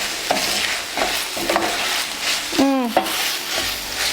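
Ground pork sizzling in a frying pan as a spoon stirs and scrapes through it, steady crackle with occasional clinks of utensil against the pan.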